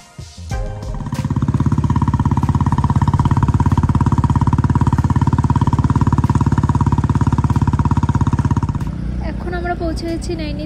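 A motorcycle rides a hill road near Nainital toward Pangoot village, its engine a loud, steady drone that holds close for most of the ride before easing off near the end.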